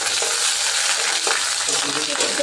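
Oil sizzles loudly and continuously as chicken paste fries in a pan for a village-style desi chicken dish, with a dense, even crackle and occasional stirring.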